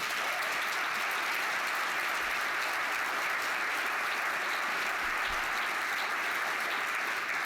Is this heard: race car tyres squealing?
no